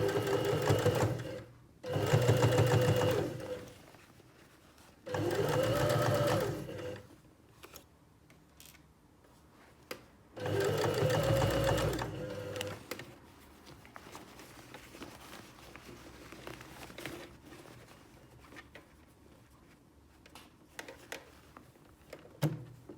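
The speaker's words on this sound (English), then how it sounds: "sew a little bit and then move my fabric around" Sewing machine stitching fabric for a bottle gift bag in three short, loud bursts with quiet gaps where the fabric is turned, then softer handling rustles and clicks.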